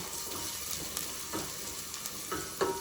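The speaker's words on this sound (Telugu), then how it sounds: "ఆనియన్ వేగుతున్నాయి" Onions, with green chilies added, fry in a pan for a country chicken pulusu curry, giving a soft, steady sizzle close by, broken now and then by light scraping stirs.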